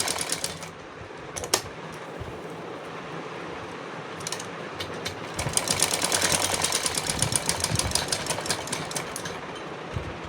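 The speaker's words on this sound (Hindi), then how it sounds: "तो मैं इसी की सिलाई कर दे रही हूँ।" A sewing machine stitches around the edges of a fabric strip for a small Kanha ji dress, running in a steady fast rattle with brief pauses, close and fairly loud.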